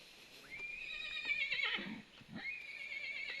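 A horse lets out a loud, shrill whinny that wavers and trails off, followed by a second shorter neigh, close by.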